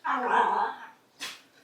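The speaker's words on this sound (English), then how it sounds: "that's my dog" A dog gives a loud, close growling bark lasting over half a second, followed by a brief sharper yip, with no talk over it.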